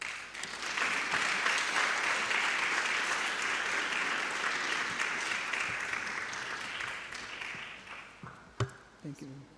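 Audience applause at an annual media convention, a dense, sustained crowd of clapping that holds steady and then thins near the end into a few scattered louder claps.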